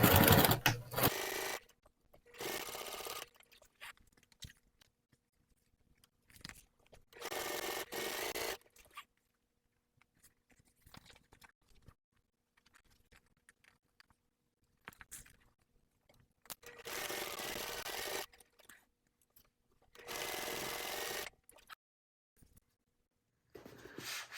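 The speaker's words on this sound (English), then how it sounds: "we're going to sew across this side seam here according to the seam allowance" A sewing machine stitches the side seam of a clear vinyl tote in several bursts of steady whirring, each a few seconds long, separated by quiet pauses, close by and with no voices.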